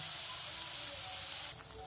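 Water poured into a hot pan bursts into a steady, loud hiss of steam that holds evenly, then drops to a softer sizzle near the end.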